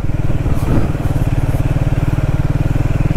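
A motorcycle rides a mountain road on the route from Jomsom to Pokhara, its engine a loud, close, steady throbbing drone that holds without a break.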